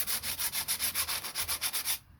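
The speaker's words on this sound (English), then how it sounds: "I'm just going to be using my hand and sanding with my hand" Sandpaper rubbed by hand along a wooden mattock handle, a steady run of about fourteen close, rhythmic back-and-forth strokes, each a bright raspy swell, stopping abruptly near the end.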